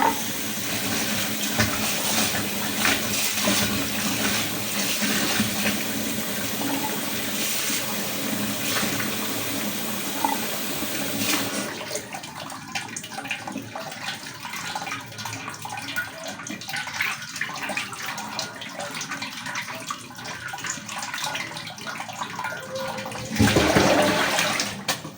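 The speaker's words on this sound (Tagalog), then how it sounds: "Hugasan muna natin yung ating upo." Tap water runs steadily into a sink while a bottle gourd (upo) is washed, loud and close for about eleven seconds, then the flow cuts to quieter splashes and handling with a brief surge near the end.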